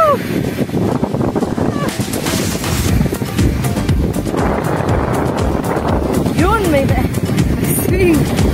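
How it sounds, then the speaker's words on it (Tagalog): Strong wind gusts across a beach on Panglao, roaring and buffeting the microphone as a steady broadband rush throughout, with people talking over it. "Ang lakas na ng hangin."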